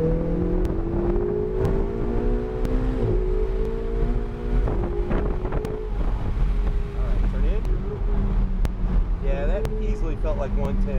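Ferrari 488 GT engine note on a track, a steady loud drone with rising harmonic sweeps as the car accelerates out of a turn, with wind buffeting and an instructor talking over it.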